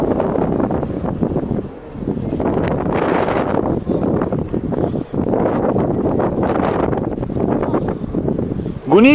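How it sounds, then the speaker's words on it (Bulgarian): Strong wind buffets the microphone outdoors at a football match, a loud, continuous roaring gust with brief dips. "И то вятър."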